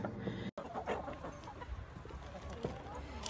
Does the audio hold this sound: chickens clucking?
yes